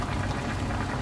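Chicken wings simmering in red sauce, a close, steady bubbling of thick liquid on the stove with no voices.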